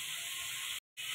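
Chicken pieces fry in a pan for Kashmiri chicken masala with a steady, bright hiss and sizzle, broken by a short gap of silence before the sizzle returns.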